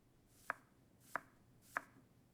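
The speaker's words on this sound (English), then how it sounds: "I chop an onion." An onion is chopped with a knife on a board: three sharp, evenly spaced chops about two thirds of a second apart, close but quiet, with nothing else audible.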